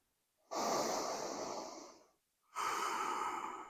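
Two long, deep breaths during a morning yoga routine, each a slow rush of air lasting over a second with a short silent pause between, close and clear with no talk.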